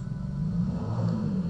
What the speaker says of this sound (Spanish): ¡Cómo odio las motos! ¿Tienen que hacer ese ruido necesariamente?